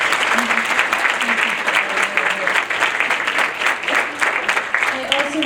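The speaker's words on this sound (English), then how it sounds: "Please join me in giving them a round of applause." A large audience applauds loudly and continuously, a dense wash of clapping that holds steady from start to finish.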